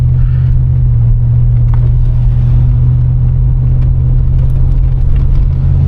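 A 1987 Monte Carlo SS Aerocoupe engine runs as the car rolls over a dip, a loud, steady, deep rumbling drone close to the listener, with no talking.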